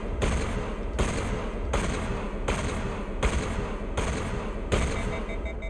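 Shotgun fire in Mass Effect 1 Legendary Edition: seven loud, evenly spaced blasts about every 0.75 seconds, each sharp crack running into the next over a dense, continuous roar, with no talk.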